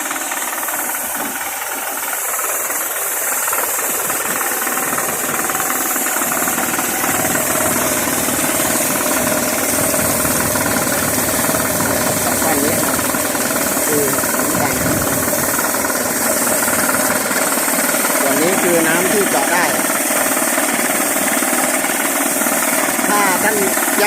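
A groundwater well drilling rig runs continuously at a borehole site in Yasothon, loud steady engine drone with rattling, knocking vibration and gushing water throughout; someone talks over it.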